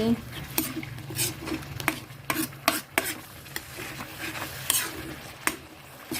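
Green curry ingredients stir-fried in a pan, sizzling under a brisk series of clattering utensil scrapes and taps against the pan, close up, with a hint of voice in the background.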